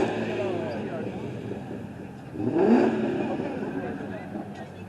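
A car exhaust revs at a car meet, one rising burst midway that swells above a steady background of engine rumble and crowd noise, with people talking nearby.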